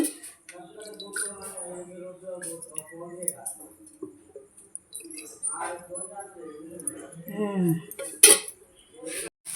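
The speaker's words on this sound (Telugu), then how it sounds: "ఇదిగోండి ప్యాన్ పెట్టుకొని గ్యాస్ ఆన్ చేసి ఆయిల్ వేసుకోవాలి మూడు స్పూన్లు" A pan is set on a gas stove in a village kitchen. Light metal clinks and scrapes of utensils are heard, with one sharper clink near the end, while someone talks throughout.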